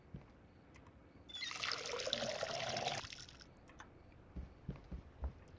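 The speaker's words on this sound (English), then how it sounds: "I'm going to refill the water." Water pours steadily for about two seconds while plants are refilled in the video game Schedule 1, a bright splashing stream with no talk over it.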